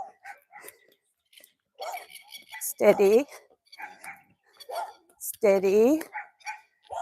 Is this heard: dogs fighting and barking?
yes